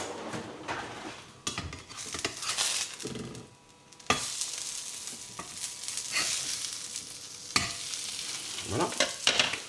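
Vegetarian burger patty frying in a pan just after being flipped, a bright continuous sizzle broken by clattering scrapes and knocks of a utensil against the pan, with brief pauses between bursts and no talk.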